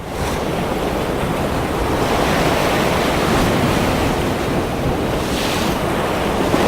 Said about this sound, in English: to get to where these waves are breaking on the rocks down here